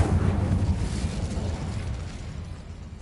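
An Incendio fire spell blasts in the Hogwarts Legacy video game, a single loud booming burst that rumbles and fades over a few seconds.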